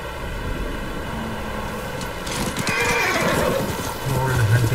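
A horse in the video game Ghost of Tsushima neighs loudly close by over the steady clop of hooves, the whinny rising and wavering near the end.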